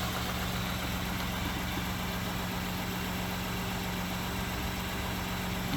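A 2018 Ford F-150 EcoBoost with low coolant and engine tapping idles steadily, a continuous mid-pitched hum with a faint steady whine, close and alone without talk.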